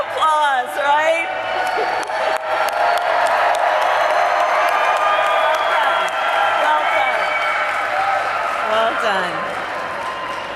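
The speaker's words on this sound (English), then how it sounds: "Give them an applause, right?" Loud, sustained crowd applause with cheering and whoops at a political rally in Las Vegas for a candidate, a dense wash of clapping lasting throughout, with a voice briefly audible over it.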